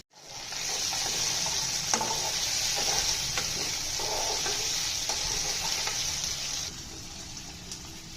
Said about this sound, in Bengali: এই তো চিংড়ি মাছ দিয়ে দিয়েছি উস্তা ভাজি করব